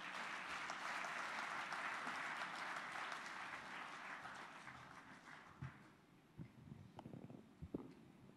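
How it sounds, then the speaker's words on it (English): Warm applause from a convention audience for a speaker, a dense, even clapping that fades over several seconds, leaving a few scattered claps and faint room noises. "I ask you for a warm round of applause for Bishop Sunday Onuoha."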